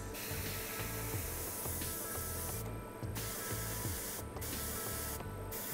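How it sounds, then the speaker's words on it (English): Airbrush spraying paint onto a Warhammer 30k Rhino tank model, a steady close hiss running almost continuously, with brief interruptions where the trigger is released three times, over a low mechanical hum. "I spray my color to the back part, as I do for the green part"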